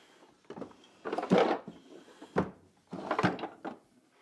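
Wooden drawers of a traditional tool chest sliding open in a woodshop, a few scraping, knocking wooden bumps and rattles close by, with quiet pauses between.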